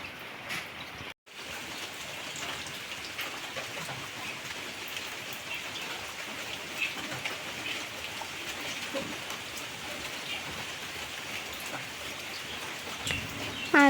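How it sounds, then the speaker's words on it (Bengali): Steady rain falling outside over fields, a continuous even patter and hiss that holds throughout, with a few faint bird chirps in the distance and no talk. "আর দেখো বাইরে বৃষ্টি পড়ছে।"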